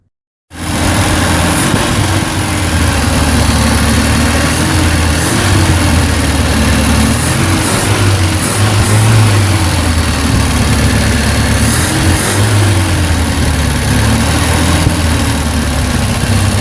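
A 1973 MGB engine, converted to a single Weber 2-barrel carburetor, idles loudly and steadily up close, a continuous low rumble with slight rhythmic wavering in pitch and no talking.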